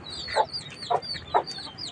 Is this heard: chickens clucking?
yes